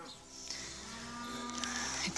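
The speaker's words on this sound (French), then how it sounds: "Je sais pas d'où elle vient, moi, cette vache." A farm cow gives a long, low, drawn-out moo that swells and fades. It sounds fairly quiet and somewhat distant, with no other close sounds.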